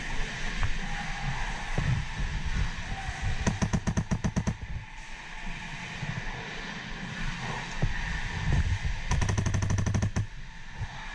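In a video game, a machine gun fires two long rapid bursts over a constant droning engine-like background, loud and close, with no speech heard.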